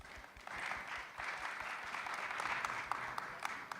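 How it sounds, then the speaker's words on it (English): An audience at an international film and TV market claps for a panel, a moderate, fairly quiet burst of many hands with a steady patter throughout and a few sharper claps standing out. "let's give them a clap."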